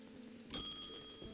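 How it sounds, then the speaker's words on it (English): A shop bell in the video game Strange Antiquities gives one bright, clear ding that rings out and fades over about a second, faint and alone with no talk. "I hate that the bell startles the cat."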